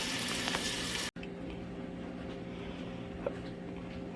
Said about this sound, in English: that searing on the onion, sauteing